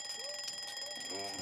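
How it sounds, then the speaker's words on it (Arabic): A household alarm clock rings in a repeating electronic beeping pattern at moderate volume, with no talk over it. "المنبه عمال يرن وانا لسه عايز انام شويه"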